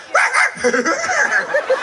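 A performer at a live concert imitates a dog barking with a voice, giving rapid yips and excited barks close to the mic over a crowd's murmur.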